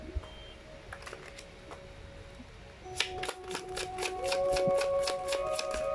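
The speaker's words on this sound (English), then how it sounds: "Let me just give this a good shuffle." A deck of oracle cards is shuffled by hand, first faint scattered card flicks, then a louder, close run of rapid rhythmic riffle-like snaps for the last few seconds.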